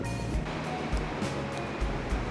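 Ocean surf along the San Diego coast keeps up a steady broadband wash, with soft low swells surging at regular intervals of about half a second and no voices over it.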